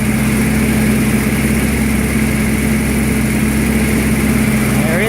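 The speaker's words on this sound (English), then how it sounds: "There it is, it runs." A 1976 Datsun 280Z engine running at a steady idle, a loud, close mechanical drone with a rhythmic low throb throughout, with no talking over it.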